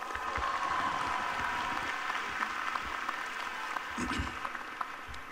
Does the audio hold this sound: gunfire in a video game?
no